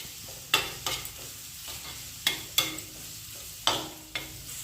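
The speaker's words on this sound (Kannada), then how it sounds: "ಟೊಮೊಟೊ ಚೆನ್ನಾಗಿ ಮೆತ್ತಗೆ ಫ್ರೈ ಆಗೋವರೆಗೂ ನಾವು ಇದನ್ನು ಫ್ರೈ ಮಾಡ್ಕೋಬೇಕಾಗುತ್ತೆ." Tomatoes with turmeric powder fry in a pan, a constant close sizzle punctuated by about six sharp spatula scrapes and taps at irregular intervals, with no voices.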